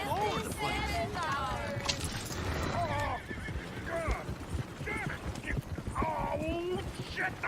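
Horses in Red Dead Redemption 2 whinny and neigh loudly, several calls in turn over rapid clip-clopping hooves, with voices mixed in.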